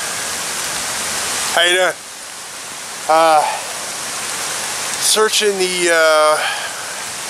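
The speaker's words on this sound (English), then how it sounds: "Yes, it is raining. It's actually freaking pouring out here." Heavy rain pours steadily in a park as a constant loud hiss throughout, with someone speaking briefly over it in short bursts.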